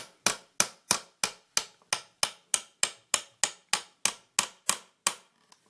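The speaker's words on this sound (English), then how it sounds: "Then what we can do is just gently hit with the hammer again." A hammer gently taps a bolt on a wheel stand in about sixteen evenly spaced, crisp metallic knocks, close and steady with short decays between them.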